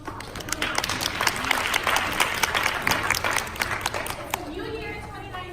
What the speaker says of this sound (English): I think you guys should give yourself a round of applause.